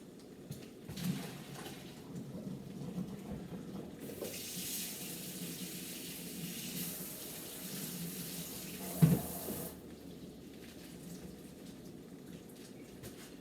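Cooked thick stir-fry noodles drained in a kitchen sink under running tap water, a steady broadband hiss of flowing water from about 4 to 10 seconds with a brief clunk near the end, quieter sink sounds around it.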